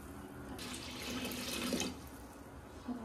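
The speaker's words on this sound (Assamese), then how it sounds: "ভালকৈ জোখমতে পানী অলপমান দি লৈছোঁ" Water pouring into a cooking pot for a dal dish, a quiet close splashing stream that swells for about a second and a half and then tapers off.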